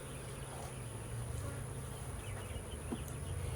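Honey bees buzz steadily inside a hive with a plain screen board between boxes and no queen excluder, a close, continuous low drone with a faint high tone above and no voices.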